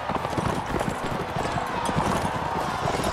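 Horse hooves galloping in the video game Mount & Blade, a steady, busy patter of clip-clop beats running throughout at moderate loudness, with faint game noise and occasional talk underneath.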